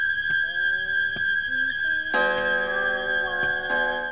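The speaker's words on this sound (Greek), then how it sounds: "Συγγνώμη, το ρολόι χαλασμένο είναι." A faulty clock ticking, then striking with a loud ringing chime that sustains and repeats, close and clear against a quiet background.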